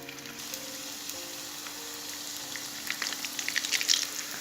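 Seafood nems wrapped in pastilla sheets frying in hot oil, a steady soft sizzle and crackle with brief pops that grow busier toward the end, close and fairly quiet.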